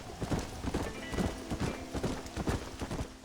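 Horse hooves clip-clopping at an unhurried walk in the Red Dead Redemption game, a regular rhythm of hollow, close thuds repeating steadily across the whole span.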